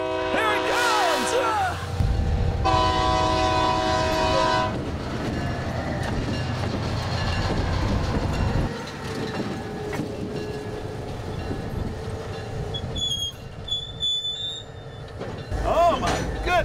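Two loud blasts of a train horn, then a long rumbling, clattering pass of rail cars with ringing bell tones, with voices faintly underneath.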